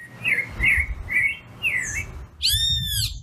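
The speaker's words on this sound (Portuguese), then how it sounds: "Os sons dos pássaros e seus mistérios." Several birds chirp and sing in short repeated phrases, clear and fairly close, ending with a brighter burst of rapid trilling notes.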